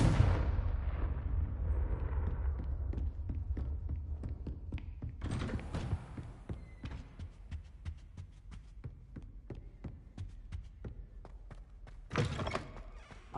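Confringo blasting spell in the Hogwarts Legacy video game: loud, heavy explosive bursts near the start and again later, with a scattering of sharp thuds and impacts between them, and no voices.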